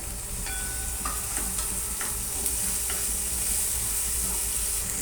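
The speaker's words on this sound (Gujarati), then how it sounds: "ડુંગળી ઝીણી ઝીણી કટ કરી રાખી હતી તે એડ કરું છું" Finely chopped onions, three medium ones, frying in oil with garlic and chillies, a dense steady sizzle with scattered ticks and stirring clinks throughout, nobody speaking.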